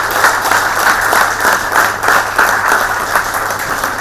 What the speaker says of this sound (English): A big round of applause for Shalini.